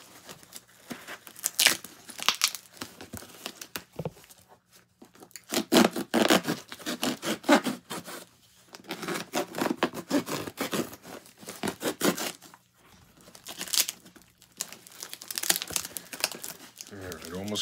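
A heavily taped package holding a comic book is torn open by hand in repeated bursts of close ripping, crinkling and scraping, with brief pauses and a voice between the pulls.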